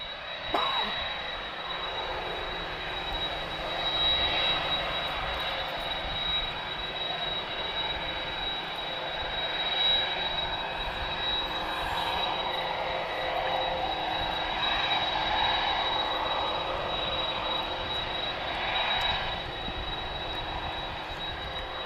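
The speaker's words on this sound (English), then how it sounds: "unmistakable sound of a CF6, first flown in June 1999, so 23 and a half years old, this aircraft" An airliner powered by General Electric CF6 jet engines roars at Lisbon Airport, a broad sustained engine drone with a faint whine that swells and fades slightly over twenty seconds, heard from a distance.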